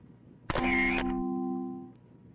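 A camcorder snaps a picture in a video game: one sharp click-like burst of electronic shutter noise, then a steady synthetic tone that holds for about a second and a half before cutting off, alone with no talk.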